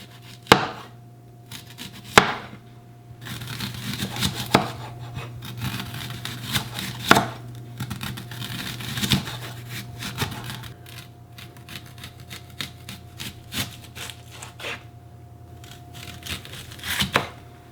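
A knife chopping a shallot on a wooden cutting board, with brisk, close, irregular bursts of taps and scraping across the board.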